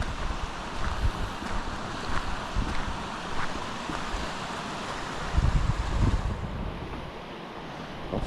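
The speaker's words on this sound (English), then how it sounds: "Lots of water coming down through the brook today." Plenty of water rushing down a brook beside an abandoned rail line, a steady broadband roar of flowing water with wind buffeting the microphone, continuous and fairly close throughout.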